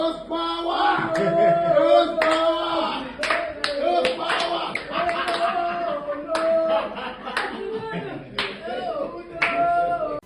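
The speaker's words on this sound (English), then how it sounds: "This was Siba's family, obviously cheering him on his debut" A family cheering and clapping loudly for a rugby player's debut for the Lions, continuous applause mixed with excited shouts and voices, close and lively throughout.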